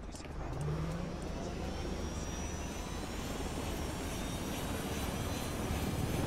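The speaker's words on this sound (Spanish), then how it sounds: "este helicóptero va un poco más lento también" A helicopter flies in the video game Ghost Recon Wildlands, a continuous droning engine roar with a faint high whine above it, steady and close.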